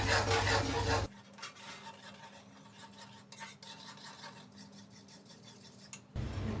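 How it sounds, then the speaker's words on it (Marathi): Roasted semolina and gram flour stirred in a pan with the gas off, giving a soft, steady scraping and rubbing sound that starts after a louder opening second and runs quietly for about five seconds. "आणि हे जे रवा भाजला आहे आपण याच्यामध्ये घालतोय आपण हे छान मिक्स करून घेऊ"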